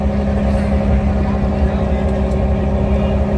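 Crowded passenger launches at Sadarghat river terminal, overloaded with travellers the day after Eid, give off a steady, loud low engine drone and deep rumble that runs throughout over busy ambient noise.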